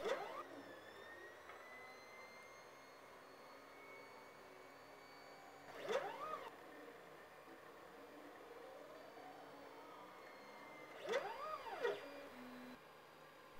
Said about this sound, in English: Here I'm plotting on a mirror tile using permanent markers.